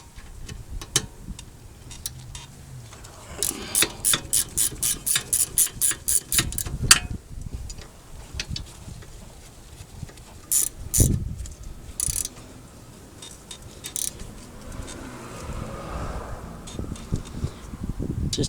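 A ratchet tightens the brake caliper bolts on a 2013 Volkswagen Passat, giving a fast, even run of clicks at close range, then scattered clinks and knocks of tools and parts.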